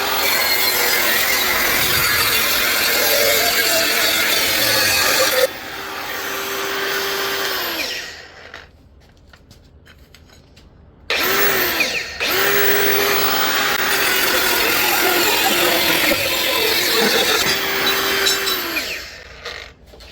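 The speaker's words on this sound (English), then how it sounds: "I'm just going to use a handheld grinder to make the cut" A handheld grinder cuts into a Jeep frame with a loud, close, continuous whine and grinding roar. The tool spins down partway through, falls almost silent, then restarts for another long cut.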